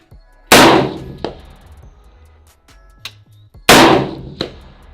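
Spikes Tactical DMR rifle firing at an outdoor range: two loud, sharp shots about three seconds apart, each followed by a short ring and a fainter metallic clang of a round striking a steel target.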